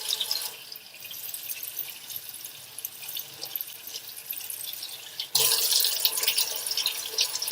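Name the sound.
tap water running while rinsing soap off hands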